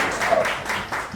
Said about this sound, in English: you can cheer